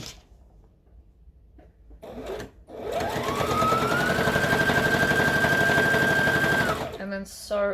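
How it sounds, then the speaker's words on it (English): Sewing machine stitching and back stitching hoodie fabric: a pause with light handling, then a loud continuous whirring run of rapid needle clatter with a rising motor whine, stopping abruptly before a few short stitches. "So then we're going to stitch and back stitch."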